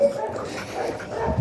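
Dogs whimper and give small yips in an outdoor green park corridor, a continuous low-to-mid whining for the whole moment, fairly close, with some murmuring voice-like sound mixed in.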